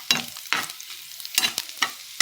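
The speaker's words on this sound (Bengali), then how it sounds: "তো রসুন লঙ্কা আর কালো জিরে একসাথে ভালো করে ভেজে নিই।" Garlic, chilli and black cumin fry in a pan while being stirred, giving several sharp scraping, sizzling bursts with short quieter gaps between them.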